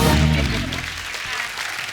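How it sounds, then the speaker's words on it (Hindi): Studio audience applause on a comedy talk show, a loud wash of clapping rising out of a musical tail and continuing steadily to the end. "एक बार पंगा की पूरी टीम के लिए जोरदार तालियां हो जाए।"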